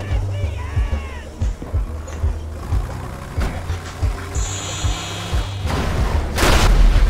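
An explosion in GTA 5 zombie survival gameplay, heard as scattered dull booms and thuds through the game's sound, with a louder burst near the end.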